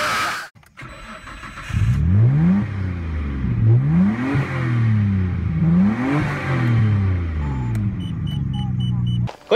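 An old Toyota Crown 'Kujira' engine revs hard at full throttle in repeated rising surges, loud and close, while people talk nearby.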